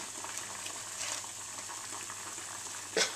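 Banana pudding sauce with butter stewing in a pan, giving a steady soft sizzle and bubbling hiss with a brief louder burst near the end.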